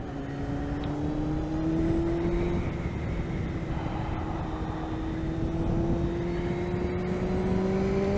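A Kawasaki ZX6R Ninja motorcycle is ridden at a steady pace on a leisurely ride, its engine a continuous droning hum with slowly rising pitch, set against constant wind rush.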